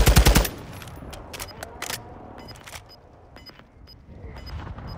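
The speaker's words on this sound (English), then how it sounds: "Shots off to the left." Video game gunfire in a multiplayer match, a loud close rapid burst at the start followed by scattered sharper distant shots and faint clicks.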